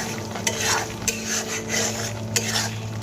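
Katla fish kalia masala with sour yogurt frying on a low flame, with a steady close sizzle broken by repeated rhythmic spatula scrapes against the pan.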